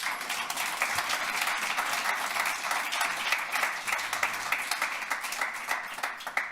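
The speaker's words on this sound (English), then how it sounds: "Please join me in giving a lusty round of applause for Jay" Sustained applause from the audience at a Toronto Bob Marley Day awards ceremony, a dense steady wash of many hands clapping throughout, close and loud with no speech over it.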